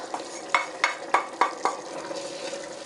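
Fried tarka spices are stirred into channa dal in a pan, with about six rhythmic scraping strokes over a soft, steady sizzle, close and fairly loud, with no talking.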